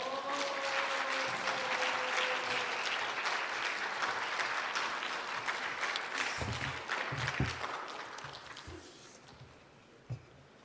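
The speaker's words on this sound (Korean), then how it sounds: "유원선 목사님 나올 때에 힘차게 박수로 환영하겠습니다" A church audience at a Friday worship service claps warmly to welcome a pastor to the stage, steady dense applause filling the hall and tapering off toward the end.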